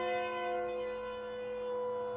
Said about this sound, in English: Maybe if Siren Head would shut his mouth.